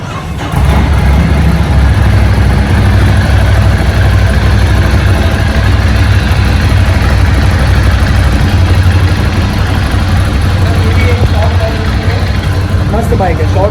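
A superbike exhaust in a Mumbai showroom gives off a loud, steady, close-up engine rumble that holds level for over ten seconds with no distinct revs.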